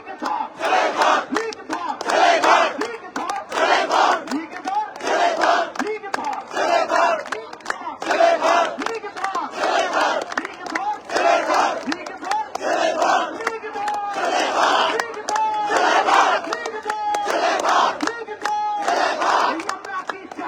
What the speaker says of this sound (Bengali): আমরা কি আজাদি স্লোগান করতে পারি?